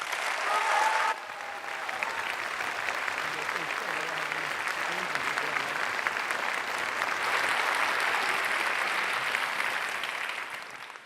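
An audience applauds steadily and warmly to welcome Demis Hassabis to his Nobel lecture in chemistry, the clapping sustained at even strength for about ten seconds after a brief spoken introduction.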